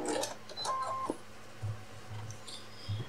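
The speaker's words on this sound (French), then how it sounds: "Et je fais des points d'arrêt en fin de couture." A sewing machine makes backstitches at the end of a seam while stitching a retro apron: short clicking and whirring bursts, then a few low mechanical pulses, close and fairly quiet.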